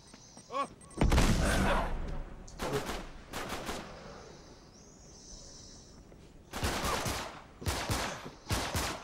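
Shotgun blasts in Uncharted 3, a few heavy booming shots spaced apart with quieter rumbling game action between them, a voice speaking faintly in the background.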